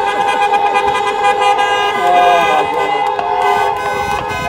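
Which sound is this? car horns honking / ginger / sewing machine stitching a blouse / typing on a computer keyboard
car horns honking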